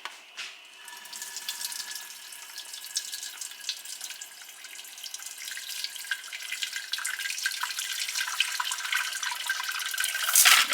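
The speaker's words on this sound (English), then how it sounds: "I have a pot in the sink ready to collect the broth," Hot coquina clam broth pours through a strainer into a pot sitting in a sink, a rushing, splashing stream that builds in intensity, close up with a final clatter and no talking.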